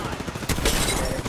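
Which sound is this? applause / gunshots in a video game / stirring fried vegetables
gunshots in a video game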